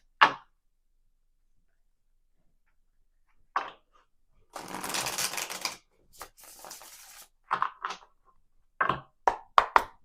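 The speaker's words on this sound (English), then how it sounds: "And while I'm shuffling the cards here," Cards riffle and snap in several short bursts between quiet pauses, close and crisp, with a few taps as the deck is squared.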